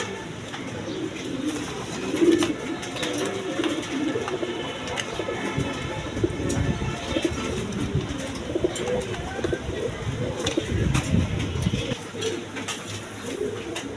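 A breeding pair of pigeons, a milky-coloured female and a red male, cooing in low bursts through steady background noise, with faint talk in places.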